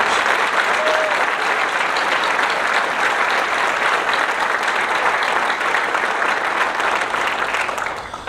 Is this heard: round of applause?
yes